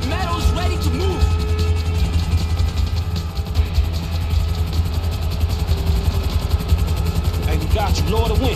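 Helicopter arriving in Grand Theft Auto 5, a steady loud rotor drone with mechanical clatter running throughout, under game noise and voices.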